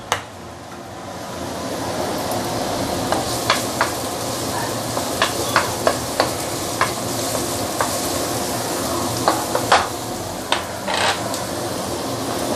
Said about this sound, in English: We need to saute the garlic and the ginger